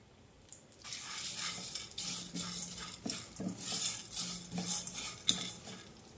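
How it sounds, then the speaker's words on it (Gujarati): Desi edible gum pops and puffs in a little ghee in a pan, heard as light clattering and scraping from stirring with scattered crackles, starting quietly and growing busier. "હવે આપણે આ ગુંદરને, દેશી ગુંદર છે એને ફોડી લેવાના છીએ."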